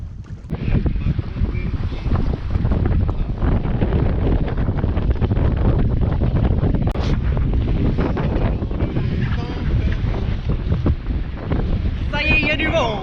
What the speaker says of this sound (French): Ça y est, il y a du vent.